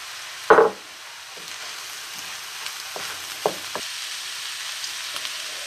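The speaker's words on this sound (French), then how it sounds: "J'ajoute ensuite mon soja que j'ai coupé en petits cubes." Small cubes of diced soy drop into a pan with a sharp hiss, then fry with a soft, steady sizzle, broken by a few light stirring scrapes.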